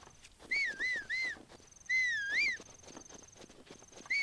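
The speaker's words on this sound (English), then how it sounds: "What, you mean whistling?" Link whistles in The Legend of Zelda: Breath of the Wild: a few short rising-and-falling whistled notes, then a longer warbling one, clear and fairly close over soft footsteps.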